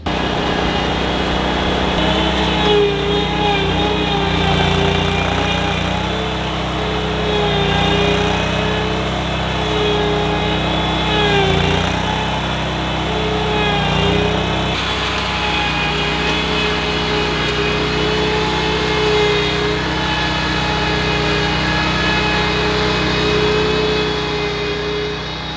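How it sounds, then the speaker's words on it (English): A lawn mower engine runs steadily and loud throughout on a small farm where new pasture is being cleared, its drone shifting slightly in pitch as it works, with no talk over it. "I got the mower."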